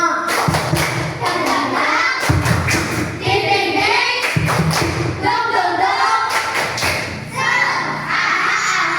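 A classroom of students performs the rhythmic "tepuk semangat" clapping chant, with loud, quick clap patterns repeating in bursts alongside chanting voices.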